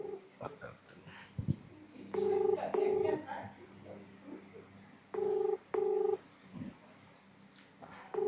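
A phone is dialed to return a call, with short, evenly spaced keypad tones in clustered pairs over quiet room sound and faint background noises.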